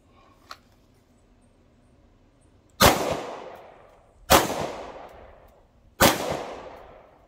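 A 9mm handgun fires at an outdoor shooting range at 10 yards: three loud, sharp shots at spaced intervals, each followed by a short ringing decay, after a faint click.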